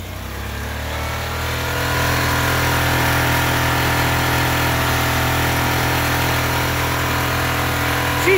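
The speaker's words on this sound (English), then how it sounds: "She's revving, folks." A Ford F-150 pickup truck engine idles, then climbs to a sustained higher rev and holds there, loud and close with a constant droning hum.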